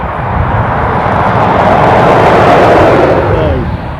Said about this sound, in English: And I can hear a turboprop somewhere.